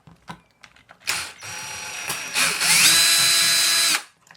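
Power drill enlarging a rivet hole in the metal film door panel of a Polaroid SX-70 camera, a few short taps and bursts, then a loud sustained high whine of about a second and a half before stopping abruptly.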